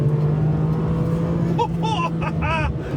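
A Ferrari 575M engine drones at full throttle, a loud steady low roar throughout with rising whine-like tones toward the end, and a voice speaks briefly over it.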